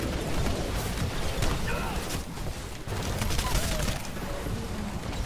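Gunfire in the Titanfall video game on the Swampland map, a dense, continuous clatter of rapid shots with scattered sharp cracks throughout, loud and close.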